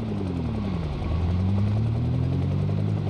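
A helicopter in the zombie survival game Project Zomboid drones steadily with a low rotor throb and engine hum, continuous and fairly loud, the pitch dipping and then rising as it passes overhead.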